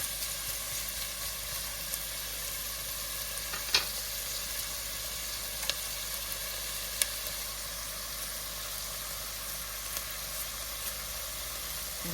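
An onion sweating gently in a pan gives off a soft, steady sizzle with a hissy texture and a few faint clicks and pops, with no one talking.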